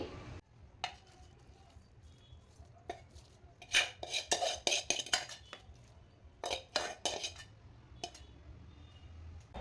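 Soft dough scraped from a pot onto a plate for traditional Maharashtrian panangi bhakri, with a run of close metallic scrapes, clinks and taps of utensil against cookware.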